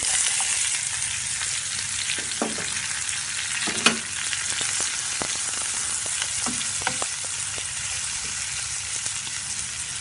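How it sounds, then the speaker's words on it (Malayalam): Chopped onion and green chilli sauté in oil in a pan, a loud continuous sizzle with occasional knocks and scrapes of a stirring spoon, close by and without speech. "സവാള നന്നായി വഴറ്റിയെടുക്കണം"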